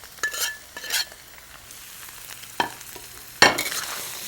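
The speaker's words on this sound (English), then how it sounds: "Gently saute it just for a minute until all the spices and the curd are mixed." Curd with turmeric, salt and spices is sautéed in a pan, a soft background sizzle under several loud stirring and tossing scrapes spaced irregularly, no talking.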